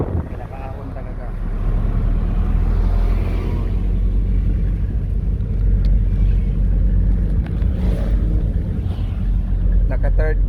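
A vehicle engine climbing a short, steep uphill road between Angono and Antipolo while held in third gear, a steady loud low rumble that strengthens after the first couple of seconds and holds, with faint talk over it.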